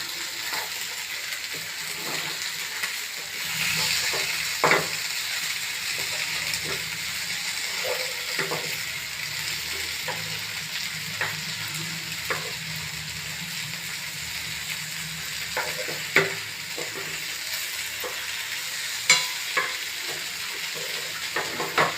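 Chanduva pomfret fish frying in a pan with garam masala, a steady close hiss and sizzle with occasional soft clicks and stirring scrapes, no talking.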